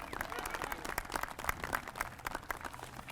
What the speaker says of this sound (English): Yeah, you can give him an applause.